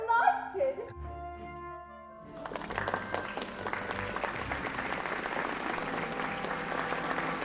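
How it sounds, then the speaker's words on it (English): A theatre crowd at Ford's applauds the arriving president, steady dense clapping that swells after a quieter opening and carries on loudly to the end, with a few voices mixed in. "The crowd applauds the president."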